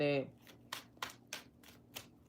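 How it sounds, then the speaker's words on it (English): Tarot cards being shuffled by hand: after a brief spoken word, about five soft, papery riffling bursts follow at an even, unhurried rhythm, close and fairly quiet. "One more shuffle."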